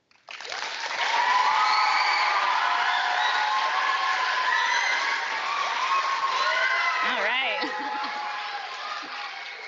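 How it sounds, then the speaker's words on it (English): A large youth audience at a WE Day event erupts in applause mixed with cheering and whoops, swelling quickly and holding loud and continuous with bright shouting voices on top, tapering near the end. "Let's give a huge round of applause for the work that we're doing here."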